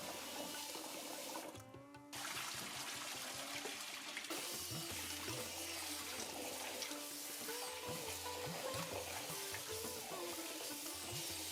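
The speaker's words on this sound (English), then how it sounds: "Add some yellow split peas or dal and wash thoroughly until the water runs clear." Running water and sloshing as yellow split peas are rinsed and stirred in a pot, continuous splashing with occasional clinks, close by.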